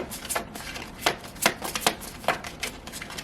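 Tarot cards being shuffled by hand, a series of quick papery riffles and taps in an irregular rhythm, close and moderately loud, with no talking.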